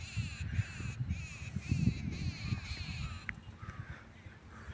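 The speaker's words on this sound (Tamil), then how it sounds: "பறவைகளினுடைய சத்தங்கள், பறவைகள் நிறைய இருக்குது." Repeated harsh cawing of crows in farm fields, several calls in a row at moderate distance, with low rumbling noise underneath.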